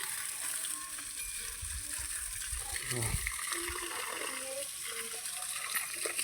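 Water is poured onto trees on a farm, making a faint continuous splashing, trickling wash with soft background noise.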